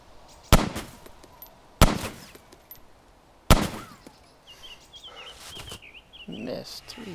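Three loud, sharp gunshots in the ARMA 2 DayZ mod, spaced about a second or more apart, each ringing out with a reverberant tail, followed by quieter background sounds.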